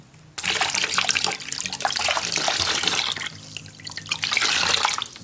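Tap water runs steadily into a sink while a face mask is rinsed off the skin, a close, continuous splashing stream that starts abruptly and keeps going without any talk.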